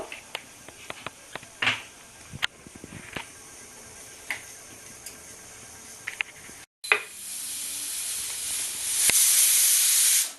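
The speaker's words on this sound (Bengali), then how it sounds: "আমি প্রথমে সুইট কর্নটাকে প্রেশারে একটা সিটি দিয়ে নেব" A pressure cooker boiling sweet corn gives a few faint hissy puffs, goes briefly silent, then lets out a loud, sustained whistling hiss that grows stronger toward the end.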